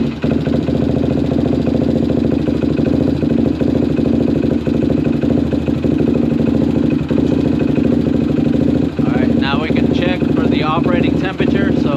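A Suzuki LTR450 ATV engine runs at a steady, loud idle with a dense mechanical clatter throughout, and a voice speaks briefly near the end.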